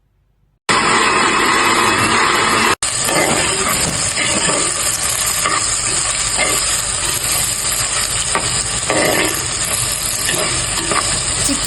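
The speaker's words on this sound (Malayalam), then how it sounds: "ചിക്കൻ കറിയും തിളച്ചു വരുന്നു." Chicken curry simmering and bubbling in a pan at home, a steady, loud, continuous sizzling hiss with soft stirring scrapes running throughout, no voices.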